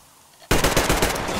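After a near-silent moment, a machine gun in the video game Metro Exodus erupts abruptly into loud, rapid automatic fire, a fast rattling burst that continues steadily to the end, with no speech.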